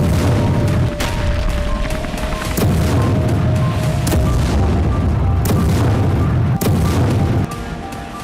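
Heavy booms of artillery fire during Russian attacks in Ukraine, several loud blasts spaced irregularly over a rumbling background, with no talk.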